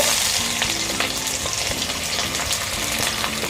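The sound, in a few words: sautéing thinly sliced shallots for sambal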